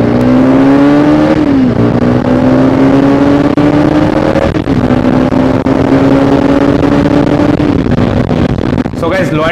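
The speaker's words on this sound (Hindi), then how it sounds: "so guys right now I am driving the Pulsar RS200 BS6 twin channel ABS variant" A Bajaj Pulsar RS200 BS6 200cc motorcycle, twin-channel ABS variant, is ridden with its engine loud and close, the tone climbing steadily and dropping at each gear change before pulling again.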